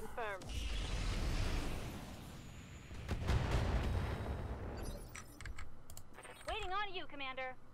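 Weapons fire in the mech combat video game Roguetech, a run of loud, dense broadband bursts and rumbling blasts that swell and fade over several seconds, with a voice speaking near the end.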